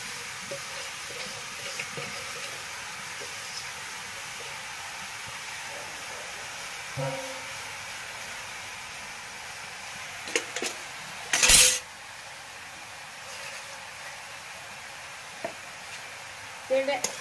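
Coconut ladoo mixture being stirred in a pan, a faint, soft scraping and low sizzle with a few scattered knocks and one short louder burst of clatter.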